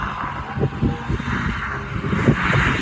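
A Renault Megane RS250 Cup passes on the Donington Park race track during a track day, a muffled, moderately distant engine drone swelling and easing over outdoor ambience.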